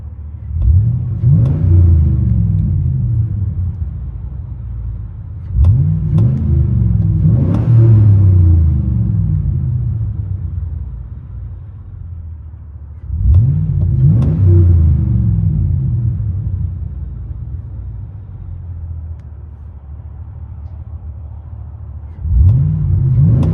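Inside the cab of a 2004 Chevy Silverado SS with a 6.0L V8 and Carven R-Series exhaust, four deep revs surge and slowly fall back to a low, steady rumble, loud and muffled with no talking.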